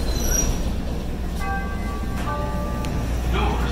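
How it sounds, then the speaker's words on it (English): A Chicago L Orange Line train rumbles steadily, with metallic wheel squeals and tonal whines rising over the constant low roar, alongside a brief voice. "This is an orange line train to Midway."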